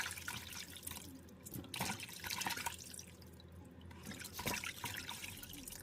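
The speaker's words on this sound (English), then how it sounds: "Now I'm just washing the meat, the shaki, a body, and some boneless cow foot." Tap water running and splashing steadily as meat is washed by hand, including tripe and boneless cow foot, with irregular louder splashes and drips close up and no talk.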